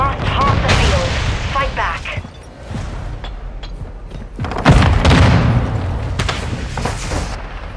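A Semtex grenade explodes in Call of Duty: Modern Warfare II, with a heavy boom among ongoing team deathmatch gunfire and voice callouts.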